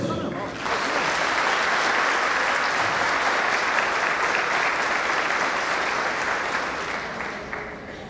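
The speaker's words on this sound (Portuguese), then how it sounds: "pedimos uma salva de palmas pela sua apresentação" An audience at an education awards ceremony applauds, a dense, even burst of clapping that holds steady for several seconds before tapering slightly.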